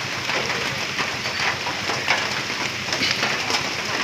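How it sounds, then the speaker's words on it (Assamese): Rain falls steadily at Deepor Beel lake, giving a soft, even hiss with slight fluctuations in level throughout and no voices over it. "আৰু ইমান বৰষুণ"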